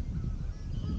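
Geese honk as they fly in over a Wisconsin field or marsh, a brief burst of several overlapping calls at moderate distance against outdoor background noise.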